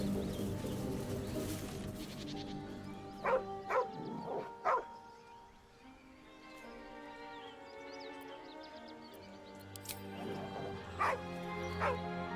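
A dog in the fantasy role-playing game Baldur's Gate 3 gives a series of short barks, yips and whimpers in a wilderness setting, some sharp and close, scattered over soft ambient music and game atmosphere.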